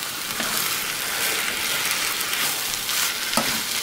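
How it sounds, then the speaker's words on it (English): Food sizzles and fries in a pan over a campfire as a spoon stirs it, giving a steady, dense hiss with an occasional soft scrape, close and continuous. "I may use this spoon to stir it all in."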